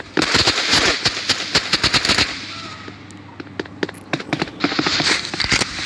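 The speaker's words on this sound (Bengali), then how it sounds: "এই যে গ্রেনেডে ওই ফাটে" Grenade blast and rapid gunfire in a shooter video game, a quick burst of sharp cracks followed by a booming explosion and more scattered shots, loud and close.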